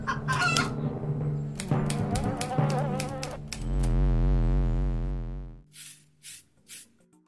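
Chickens cluck and a rooster calls, with a burst of sharp clucks at the start, a steady buzzing hiss through the middle and a few brief calls at the end, loud and close.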